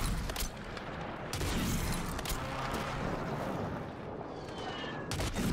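Sniper rifle fire in Call of Duty Warzone on Rebirth Island, several loud sharp cracks in quick succession over constant battlefield rumble and noise.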